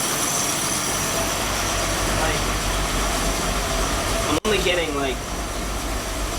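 A 1972 Toyota Crown barn find idles with a misfire, coughing on one cylinder. The engine runs as a steady, close rumble while someone talks over it, and the sound briefly cuts out near the end.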